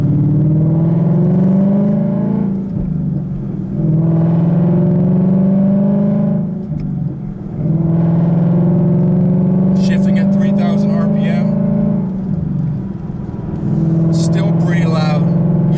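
A 2015 Ford Mustang GT's deep, steady aftermarket exhaust rumble holds throughout, swelling and dipping with revs, with brief crackles and pops near the end.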